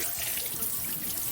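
Water gushes and splashes steadily onto a Chromebook in a kitchen while someone cooks, a continuous loud hiss like a running tap with no pauses.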